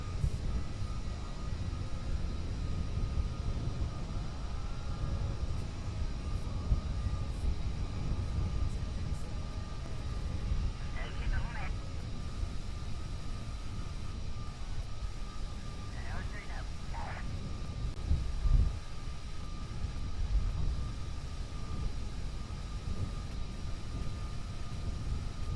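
An airplane taxis toward the terminal in the game Kerbal Space Program, its engine giving a steady low rumble and drone throughout, with a couple of faint tonal chirps partway through and no talking.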